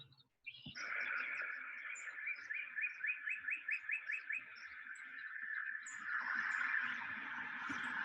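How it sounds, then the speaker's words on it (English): Springtime birdsong, including robins, rings out as a steady, bright chirping and rapid trilling series, moderately near and alone, with a faint rustle underneath. "Spring is here, the weather's warming up, and the birds are coming."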